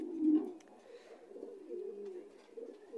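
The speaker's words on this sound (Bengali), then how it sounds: "এটা এটা আসলে ইম্পোর্টের কবুতর" Imported pigeons of Beauty Homer or Lahori Sherazi type coo in a steady run of low, throaty calls, close by and moderately loud, with no talk over them.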